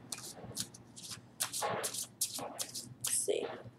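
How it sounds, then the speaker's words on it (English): Tarot cards are shuffled in quick riffling bursts, close and crisp, with soft paper slaps between them. "Let's give it a good shuffle."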